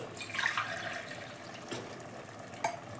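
Water pours and splashes into a pot of rice for ghee chicken pulao in a steady stream, with a couple of brief clinks and no talking.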